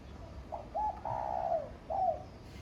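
A young large Taiwanese dove coos softly in a short phrase of several low, hollow notes, the longest in the middle, then a final note after a brief pause.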